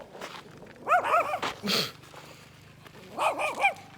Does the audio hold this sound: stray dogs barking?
yes